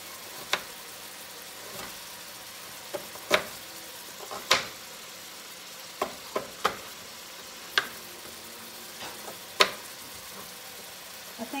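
Fish chunks frying in a pan for seafood stew, a soft steady sizzle with scattered sharp clicks and knocks of utensils against the pan, close and moderately quiet.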